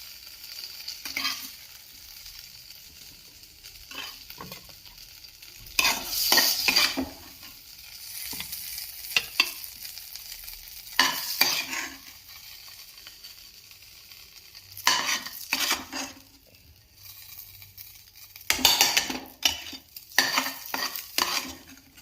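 Potatoes frying in an oiled pan, stirred in bursts so loud scraping, clinking spoon-on-metal strokes rise over a quieter sizzle that fades between stirs; no talking.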